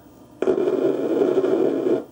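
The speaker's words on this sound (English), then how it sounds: "There we go, explosions." Electronic explosion sounds from a 1980 Atari Missile Command arcade board under repair, a sustained, slightly distorted rumbling burst that starts abruptly and continues steadily for about a second and a half, alone with no talk.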